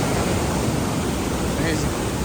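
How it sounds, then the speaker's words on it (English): A waterfall on the Big Pine Lakes hike rushes in a loud, steady roar of falling water, a broad unbroken wash of sound close by with no pauses. "this is where the waterfall starts"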